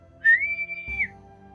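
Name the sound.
person imitating a whistle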